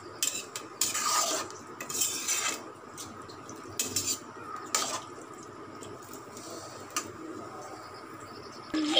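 Spoon scraping and clinking against a pot as thick curry with taro root is stirred after adding water, in irregular bursts with brief pauses, close by and without talk.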